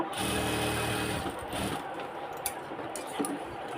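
A sewing machine stitches a pocket onto a pair of ladies' pants in a tailoring shop, running loudly and steadily for about a second and a half before slowing into quieter handling noises.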